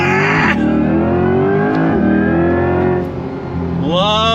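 A Corvette E-Ray's V8 paired with an electric motor pulls hard on throttle through an 8-speed dual-clutch gearbox, with a loud rising engine tone and an electric whine, briefly dipping as it shifts near the end.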